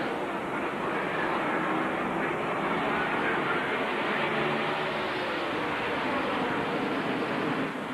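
Continuous roar of NASCAR race cars at the 2000 UAW-GM Quality 500, a dense, steady engine drone held at an even loudness throughout with no breaks and no voices.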